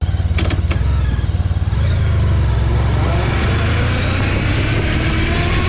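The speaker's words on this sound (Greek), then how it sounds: "ενδεχομένως να ηχογραφηθεί καθαρά ο ήχος της μηχανής, χωρίς θόρυβο από τον αέρα" Motorcycle engine captured by a bike-mounted GoPro while riding, a close, loud throb with a brief pulsing rev near the start settling into a steady drone, with no wind roar or talk.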